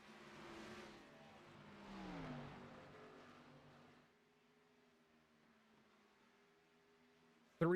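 Race cars roar past at Darlington Raceway in a racing video game, a couple of faint engine swells rising and fading, then a quieter steady drone before a sharp burst at the end.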